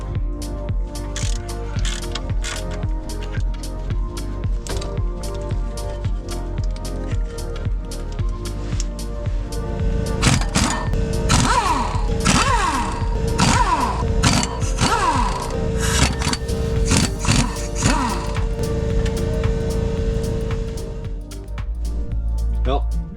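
A ratchet works on the clutch pressure plate bolts of an off-road Jeep, giving repeated sharp clicking strokes at close range with a steady background hum, while a person talks over part of the work.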